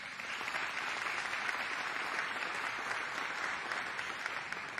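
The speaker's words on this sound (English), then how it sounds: "so another round of applause for Mary" A large audience applauds Mary Barra, CEO of GM, at an event in Michigan, with steady dense clapping that holds evenly from start to end.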